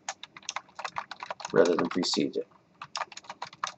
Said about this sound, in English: A lot of typing there.